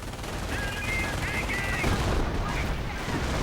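Machine gun fire crackles in a World War II strategy video game, a dense continuous rattle over a steady battle din, with no clear break.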